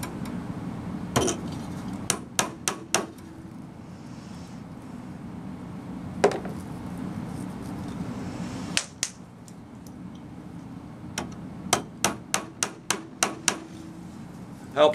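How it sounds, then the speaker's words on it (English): A number 33 tack hammer drives magnetic blue upholstery tacks into a spring frame, giving sharp isolated taps and quick bursts of three to six close, crisp strikes over a low steady background hum. "take your number 33 tack hammer, take some blue tacks, it's magnetic"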